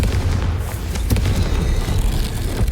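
Confringo spell blast in a Harry Potter video game, a dense, loud rumbling explosion with sharp crackling bursts layered over a heavy low roar.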